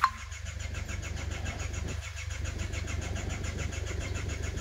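An Isuzu Trooper 4JX1 diesel engine cranks with a sharp opening click and then settles into a steady, even chugging idle, close and continuous, with no one talking.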